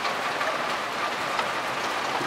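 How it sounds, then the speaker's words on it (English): Heavy rain pours down outdoors beside a kitchen door in Los Angeles during a January storm, a steady, dense hiss of water striking surfaces with no pauses and no voices. "And it's raining cats and dogs out here."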